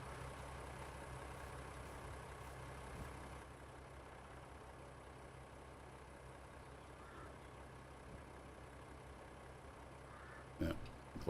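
An old tractor engine idling in Farming Simulator 22, a low, steady, faint rumble that holds evenly throughout, with a brief clunk near the end.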